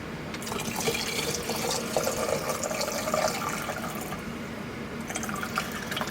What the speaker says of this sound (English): And then I am just going to top it up with hot water.